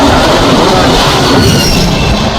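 A passenger train travels between Ajmer and Punjab, heard from inside as a loud, continuous rumble of wheels on rails with a faint squeal, with no gaps throughout.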